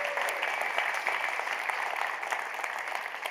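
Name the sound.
audience applause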